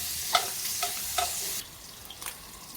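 Scallops searing in a hot frying pan give a soft, steady sizzle with a few light clicks and pops near the start, then the sound thins out over a couple of seconds, close up with no voices.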